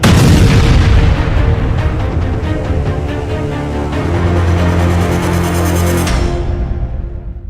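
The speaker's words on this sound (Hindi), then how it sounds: "रूस के क्रास्नोडार हथियार डिपो में हुआ धमाका" Heavy, sustained rumbling booms from an ammunition depot explosion in Krasnodar, Russia, loud and continuous with rolling blasts that cut off abruptly near the end.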